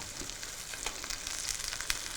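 Tomatoes and chorizo fry in a hot pan with a soft, continuous crackle and sizzle, close and fairly quiet, with small pops scattered throughout.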